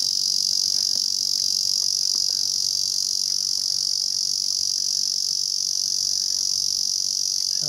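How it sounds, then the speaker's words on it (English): A cicada drones steadily in a backyard, a loud continuous high buzzing that holds without a break throughout, with faint low background noise underneath. "cicada, or as they say here, semi. It's an insect, big insect. It's making that sound that you can probably hear."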